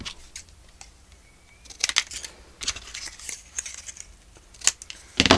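Scissors cut through Stamperia patterned paper for a spring daisies journal, a series of close, crisp snips and paper rustles in irregular bursts.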